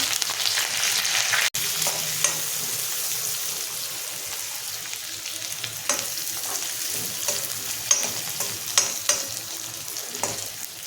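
Sliced onion, green chillies and curry leaves fry in hot oil for a tempering, producing a loud, steady sizzle close by, with occasional stirring taps and scrapes and a brief click early on.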